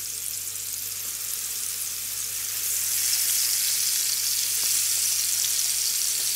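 Marinated mutton chops fry in hot oil over medium heat, a dense, steady hiss and sizzle that swells a little louder partway through, with a low constant hum beneath and no voices.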